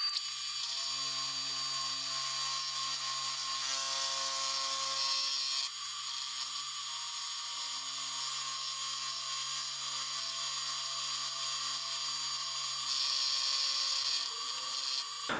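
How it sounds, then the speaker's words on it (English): A milling cutter cuts a slot in a block for a homemade shaper machine, giving a steady high-pitched whine with a faint hum underneath and no talk. "we'll get a milling cutter in there, and we'll cut that slot out"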